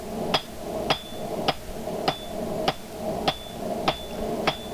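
A 3-pound hammer strikes hot metal while forging a dragon door pull, refining the blob on its tail. Eight evenly spaced, ringing blows land close and loud, with a short metallic ring after each.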